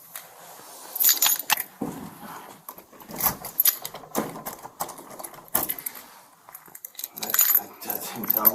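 A set of office keys jangles and clinks in bursts while someone tries them, a close metallic rattling that comes and goes, with soft voices in the background.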